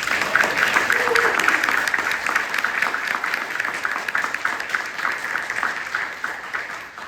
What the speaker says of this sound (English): If the audience can please give a nice round of applause.